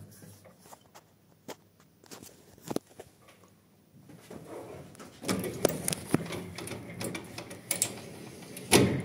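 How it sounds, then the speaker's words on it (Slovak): A sliding door on dry, stiff rollers that drag instead of turning is forced shut, giving scraping, grinding and knocking noises that build into a louder rough rumble near the end, recorded close up. "A dvere nejdu zavrieť. Ťažko, veľmi ťažko sa zatvárajú, lebo kolieska drhnú a sa netočia."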